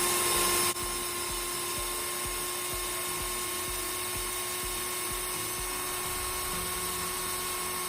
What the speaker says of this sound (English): next step is to drill a pilot hole